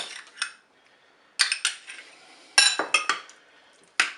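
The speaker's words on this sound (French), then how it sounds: "Vous mélangez tout ça." A utensil mixes a potato and tuna salad with tomatoes and mayonnaise in a bowl, giving close, sharp clinks and scrapes against the dish in irregular bursts, separated by short quiet gaps. No one speaks.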